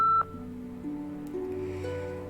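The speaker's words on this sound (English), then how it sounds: "Anyone else is welcome to leave a message after the beep." An answering machine in Nancy Drew: Midnight in Salem gives a short, clear electronic beep, followed by a low, steady hum of game ambience and a few soft tonal shifts.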